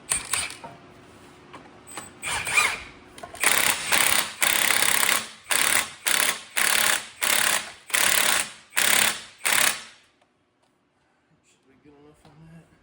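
Impact gun driving the balancer bolt on an LS engine fires in about nine loud, close bursts of roughly half a second each, evenly spaced, followed by quiet and faint clinks.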